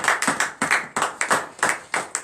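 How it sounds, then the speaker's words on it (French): A church congregation at a morning prayer service claps in unison, giving sharp, regular collective claps at a steady rhythm, close and loud, with brief gaps between beats. "Donnez l'acclamation à Jésus"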